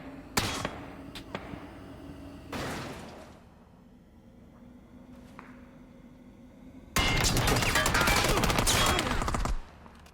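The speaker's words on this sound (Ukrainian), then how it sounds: "Там стріляє" Gunfire in the battle-royale video game PUBG, heard as three loud bursts of shots, the last and longest near the end, with quieter gaps between them.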